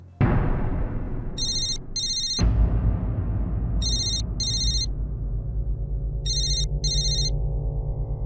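A telephone rings in three repeated double bursts over a loud, sustained low background tone, with no talking.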